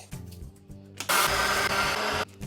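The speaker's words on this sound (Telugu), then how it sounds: "మినపప్పు అయితే చల్లగైంది బేట, మిక్సీ పట్టేద్దాం." A mixer grinder grinding urad dal, a short loud whirring burst of just over a second following some quiet handling sounds, then cutting off abruptly.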